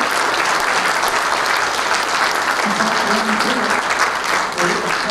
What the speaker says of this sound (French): Ovation, remerciez-le.